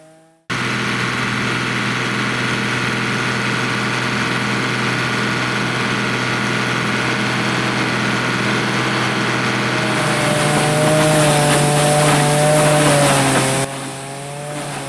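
Steady loud mechanical drone of a hammer mill grinding cob corn on a farm, with a rising, rougher grinding roar toward the end and no voices.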